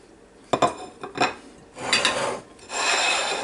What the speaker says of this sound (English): you can just cut the potato just like that with a fork